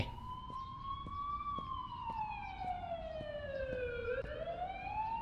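Ambulance siren wailing continuously with slow rising and falling sweeps, fairly loud and steady over low road rumble, with no talk.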